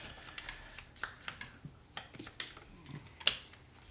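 A deck of cards riffled and shuffled in a tabletop board game, several quick papery riffle bursts and taps close by, no talk.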